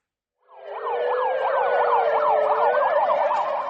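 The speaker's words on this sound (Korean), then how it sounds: "불이 났다는 신고를 받고 소방차가 긴급 출동합니다" A fire engine siren on an emergency dispatch to a reported fire wails in a fast, rising and falling two-tone pattern, starting abruptly after a brief silence and holding loud and steady.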